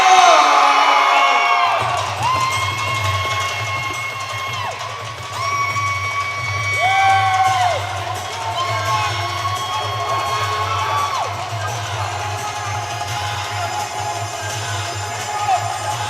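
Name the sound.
gym crowd cheering and whooping for fighter Garon Shemar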